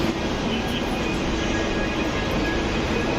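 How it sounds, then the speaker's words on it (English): An intercity train rolls through Roma Termini station, producing a loud, continuous rumble of wheels on rails with faint metallic squeal, heard up close and with no talking. "Intercity for special train, it's faster train."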